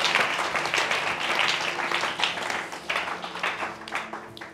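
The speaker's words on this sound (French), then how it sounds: "Applaudissons d'abord le Seigneur." A church congregation applauding, a dense, lively patter of many hands clapping nearby in a reverberant hall, fluctuating in intensity throughout.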